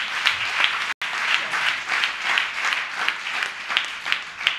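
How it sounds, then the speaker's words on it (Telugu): An audience claps together on request, with steady applause pulsing in a loose rhythm for several seconds and a brief cut near the start. "చప్పట్లు కొట్టండి."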